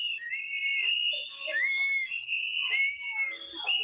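Several whistles blown by people circling a person, shrill and overlapping, sounding in long sustained blasts with short breaks, loud and close throughout.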